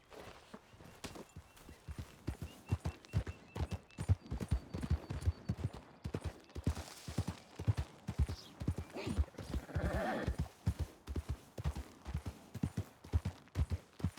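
Steady hoof clip-clops of a horse on hard ground in a video game, a brisk even rhythm of close, sharp knocks continuing throughout with some faint background noise.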